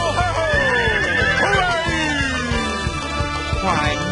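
A horse neighs in a loud, drawn-out whinny, with hoof clip-clops and a voice over it.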